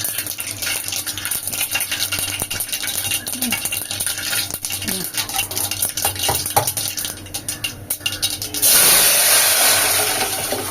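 Mustard seeds and urad dal frying in a little oil for beetroot rasam, a steady crackling sizzle with scattered pops and stirring clinks, swelling into a louder, denser hiss near the end.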